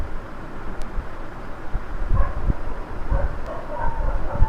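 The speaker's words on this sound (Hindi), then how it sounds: "कुत्ते भौंक रहे पीछे से एनिमी के।" Dogs barking in the PUBG Mobile shooter game, several muffled yaps and woofs coming from the distance behind an enemy, faint beneath the game's low rumbling ambience.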